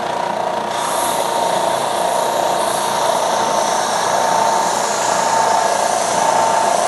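A woodworking belt sander runs steadily while a sandpaper cleaning stick is pressed against the moving belt, giving a loud, continuous high-pitched whine and hiss that stays even throughout, with no voices.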